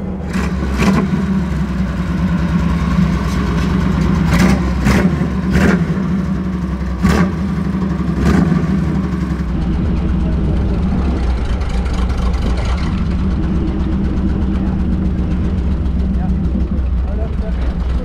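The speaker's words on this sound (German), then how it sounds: "Mercedes SSK in voller Fahrt." A 1929 Mercedes-Benz SSK with a supercharged 7.1-litre engine of 250 PS roars at speed, a loud sustained engine drone broken by sharp bursts and pops, with people talking over it.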